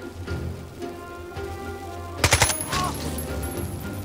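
A short burst of rapid gunfire in the Jagged Alliance 3 video game rattles out over a steady background hiss, a tight cluster of loud cracks followed by a fading tail.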